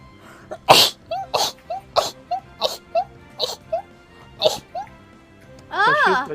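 Repeated small sneezes, about eight sharp bursts spaced roughly every half second, with brief whimpering squeaks between them and a wavering whine at the end, close and fairly loud.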